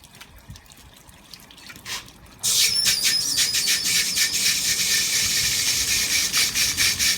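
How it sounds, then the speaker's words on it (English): Water from a washing machine's detergent drawer runs out in a steady close trickle, beginning abruptly partway through and continuing loud and unbroken, with no voices. "There, it is at the top now because the water's coming out the drawer."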